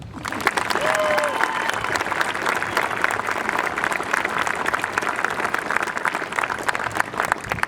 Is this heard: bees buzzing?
no